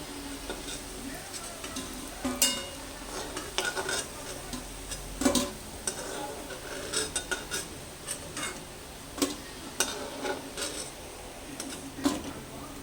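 Jackfruit seed barfi pieces frying in oil, with a soft sizzle beneath repeated spatula scrapes and metallic clinks against the pan at a steady, unhurried pace.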